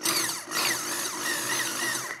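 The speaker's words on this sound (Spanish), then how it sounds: "Lo más derecho posible y poco a poco dejamos actuar la broca para sacar el tornillo." A power drill in normal drilling mode bores out a screw on a salvaged Kawasaki ZZR 1100 motorcycle, giving a close, continuous grinding whir across the clip with a brief dip in loudness near the start.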